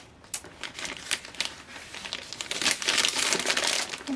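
A green plastic bag wrapped around a potted pecan tree crinkles close up in dense, continuous rustling that grows louder toward the end.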